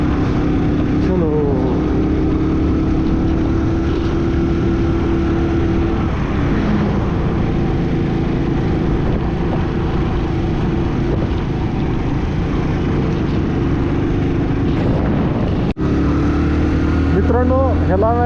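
A car driven by its owner labours uphill through snow in Arunachal Pradesh, its engine a loud, steady, strained drone that runs unbroken throughout, with speech now and then over the top.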